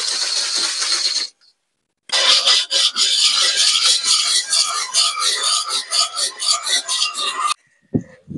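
An aluminium gasket from a moped engine is sanded by hand in quick back-and-forth rasping strokes, loud and close, with a short pause before the rhythmic scraping starts again.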